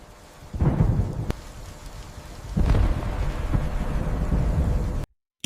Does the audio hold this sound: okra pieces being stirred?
no